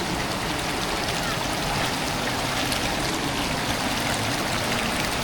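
Fast-flowing stream water rushing at a waterfall in West Sumba, a loud, dense, unbroken roar that fills the whole stretch without pause.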